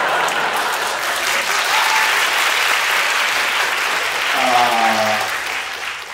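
A live comedy audience applauds, a dense wash of steady clapping lasting several seconds, with a voice briefly rising through the noise near the end.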